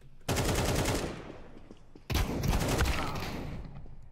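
Two loud bursts of rapid gunfire in the video game CS2, each erupting suddenly and then trailing off, the second following about two seconds after the first.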